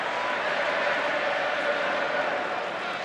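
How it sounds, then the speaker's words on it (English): A Wigan rugby league crowd keeps up a steady, dense wash of stadium noise, voices massed together in a continuous roar that could be singing, with no pauses or individual voices standing out. "The Wigan crowd breaking out into good singing mood"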